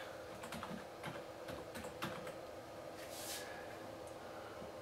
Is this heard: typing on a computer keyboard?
yes